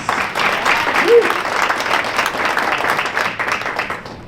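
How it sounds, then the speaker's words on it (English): A large crowd applauds loudly and continuously, with a short whoop rising above the clapping. "So if you can give him a round of applause."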